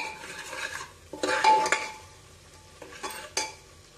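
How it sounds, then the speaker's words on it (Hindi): Spices are stirred and roasted in a pan for a banda curry, with bursts of sizzling and scraping spoon strokes in uneven pulses, a couple of sharper clinks, close and with no talking. "हमें मसालों को 10 से 15 मिनट तक भूनना है"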